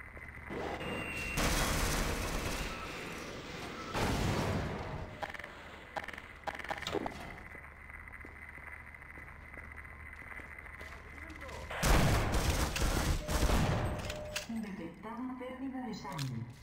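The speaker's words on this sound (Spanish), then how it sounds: "Claro, me están disparando." Soldiers fire guns at the player in Half-Life: Source, with loud bursts of gunfire at about 1.5, 4 and 12 seconds and quieter stretches between. Someone speaks Spanish in between the shots.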